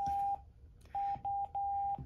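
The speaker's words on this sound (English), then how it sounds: "now you'll notice you get the obnoxious beep" A fire department portable radio sounds its out-of-range warning, steady pure-tone beeps: one long beep, a pause, then three more in quick succession, loud and close with nothing else heard.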